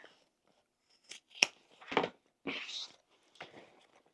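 Scissors trimming the fabric seam allowance of a sewn bag, a few close, short snipping cuts spaced irregularly with quiet pauses between them.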